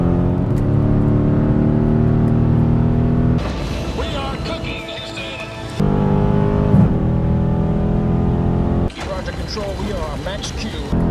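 A muscle car on a hard 60-130 mph run, comparing a Dodge 5.7 RT, 6.4 Scatpack and 6.2 Hellcat, roars loudly with a deep rising engine note broken by abrupt gear shifts, heard close from inside the cabin.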